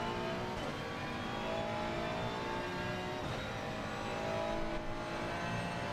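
A GT race car in Assetto Corsa Competizione screams through a flying race lap, its engine rising through the gears with brief dips at upshifts, steady and fairly quiet.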